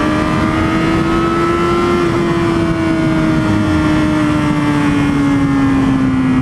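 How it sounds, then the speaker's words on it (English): An inline-four engine winds up under acceleration, its tone rising and gently sweeping through a long pull, loud and close, heard alone without talk. "Boy, I love how this thing sounds when it winds up."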